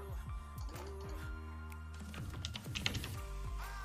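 Rapid computer keyboard typing, steady clicking keystrokes close to the microphone with a few louder taps, continuing throughout with no speech.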